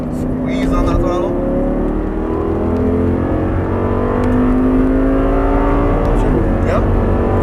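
An Audi R8 on a track pulls hard on throttle, its engine note climbing steadily in pitch and loudness from inside the car, while an instructor keeps talking over it.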